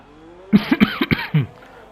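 A short burst of several harsh coughs in quick succession, close and loud, with quiet before and after.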